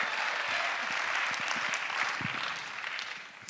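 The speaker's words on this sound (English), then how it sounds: "So please, big round of applause for Danielle." Audience applause at an Ignite Denver speaking event, a steady dense wash of clapping from a crowd that holds level and then begins to thin out near the end.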